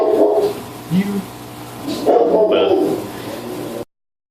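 A dog barks and yelps at a mailman, loud and close, in a few uneven bursts mixed with other indoor noise before the sound cuts off abruptly.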